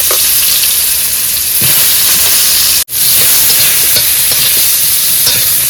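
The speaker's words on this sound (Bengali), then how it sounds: "তেল গরম হয়েছে, আলুটা দিয়ে দিই।" Potatoes fry in hot oil in a pan aboard a boat, giving a loud, continuous sizzle and hiss that cuts out for an instant before resuming just as strongly.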